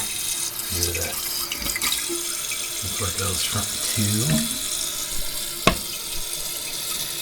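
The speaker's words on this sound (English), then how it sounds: "And that is filling the bowl and the tank." Water runs steadily into a toilet tank and bowl after a float valve is replaced, with a sharp click partway through, while someone talks over it.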